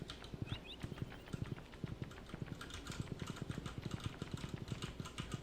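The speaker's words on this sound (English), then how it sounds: "the horse plays its galloping sound effect" Rapid, rhythmic hoofbeat sound effects from a horse in the game Stardew Valley clop continuously, a steady galloping pattern with no talking.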